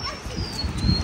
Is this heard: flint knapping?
no